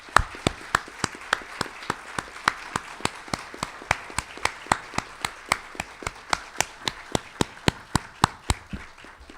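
An audience at an academy talk claps together in a slow, steady unison rhythm, sharp evenly spaced claps about three per second over a soft room murmur.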